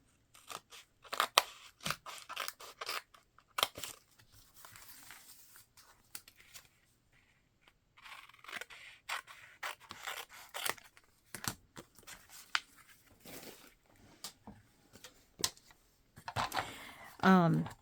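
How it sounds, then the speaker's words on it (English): Scissors trimming paper during a crafting session, with several short bursts of snipping and crisp paper rustling spread across the stretch, some quiet pauses between, and a brief louder rustle at the end. "I'm going to have to trim it."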